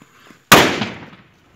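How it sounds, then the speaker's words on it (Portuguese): A firecracker bomb goes off in one sharp, loud blast close by after a brief quiet moment, its roar decaying over about a second into faint crackle. "Será que isso é bomba?"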